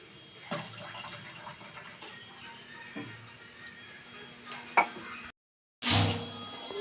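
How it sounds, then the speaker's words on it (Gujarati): A glass of water is poured into a pot while making falooda, giving a steady close trickle and splash, then a brief silence and a louder gush of water. "હવે આપણે 1 ગ્લાસ પાણી નાખી દઈશું."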